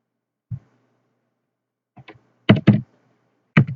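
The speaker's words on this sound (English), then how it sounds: "we can type something like this" Sparse keystrokes on a computer keyboard: a single tap, a couple of faint presses, then a quick pair of sharp clicks and one more, close and isolated in a quiet room.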